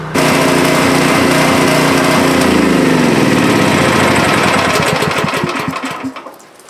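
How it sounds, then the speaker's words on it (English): A small gas generator engine runs steadily and loud, then sputters and winds down as it runs out of fuel and dies near the end. "So now we're going to go out here and shut off the generator."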